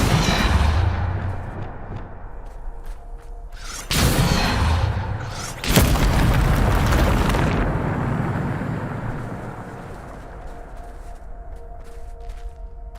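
Magical blast from the Depulso spell in Hogwarts Legacy: a loud booming burst followed by a second heavy rumbling blast, each decaying into a long roar over steady game ambience.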